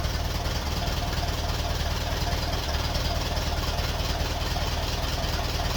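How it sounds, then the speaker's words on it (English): A 1951 Ferguson tractor engine idles after a thermostat housing replacement, giving a steady, close, low chugging rumble with an even knocking pulse that continues without a break. "that is a really well running tractor"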